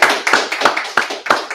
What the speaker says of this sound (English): ask the folks here in the room to give these folks a big round of applause